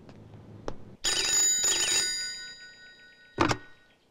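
A telephone rings after a local call is dialed, with two long warbling ring bursts close and clear, a short click before them and a brief thump after.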